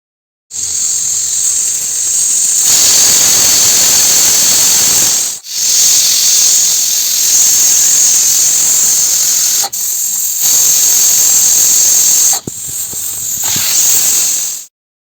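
A loud, piercing hiss of steam blasting from a pressure cooker whistle while cooking salted lima beans, sustained for long stretches with brief breaks between bursts.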